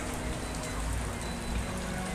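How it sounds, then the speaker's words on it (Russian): Steady rain patters densely on the roof of an outdoor cafe in Phuket, Thailand, a constant close hiss of drops with no voices. "То есть сейчас вот идет дождь"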